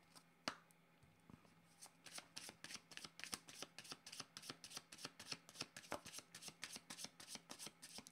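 A deck of tarot-style cards is shuffled steadily, producing a long run of crisp, evenly spaced riffling clicks, close and fairly soft, with no talking.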